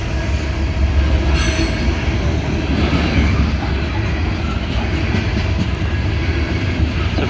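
A massive loaded CSX coal train led by a freshly rebuilt SD70 locomotive rolls past close by, a loud steady rumble and clatter of wagons with wheel squeal throughout.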